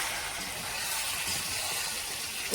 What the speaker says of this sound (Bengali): এবার নারকেলের দুধ দেওয়া হচ্ছে।